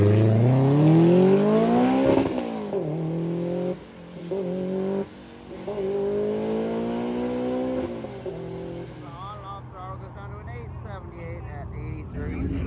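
A DYO-class drag car makes its first pass of the day at a street drag racing event, the engine climbing through gears in loud rising sweeps with brief shift breaks, then fading off as it runs away down the track.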